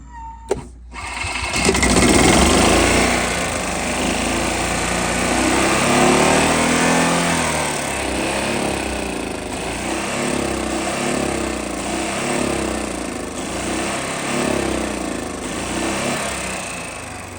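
A 2009 Club Car gas golf cart engine revs up and holds a loud, buzzing high-pitched drone close by, rising sharply at first then wavering at high speed for a long stretch.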